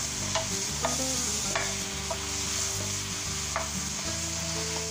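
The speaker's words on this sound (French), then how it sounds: "Allez, on mélange tout." Ratatouille vegetables, including aubergines and tomatoes, stirred in a hot pan for Basque-style ratatouille: a steady close scraping and tossing with a continuous sizzle underneath, no talk.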